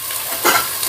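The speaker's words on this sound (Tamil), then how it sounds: "வெங்காயம் நல்லா வதங்கி வரட்டும்." Onions frying in a pan, a steady close sizzle with a brief scraping stir in the middle.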